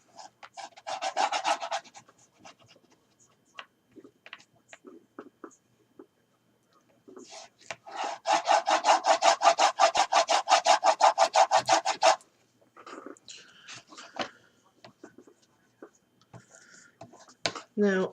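A folded paper junk journal cover being burnished, with close rhythmic rubbing strokes in short bursts and one long steady run of quick back-and-forth scraping, broken by quiet handling.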